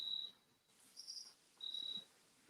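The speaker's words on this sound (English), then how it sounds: "I can hear his crickets." Crickets chirp in short bursts, a few high trilling pulses with pauses between, faint and close against a quiet background.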